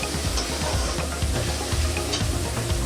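Ginger and cumin paste fries in a pan for a pointed gourd (potol) curry, a steady close sizzle under repeated scraping strokes of a spoon stirring gently, with no talk.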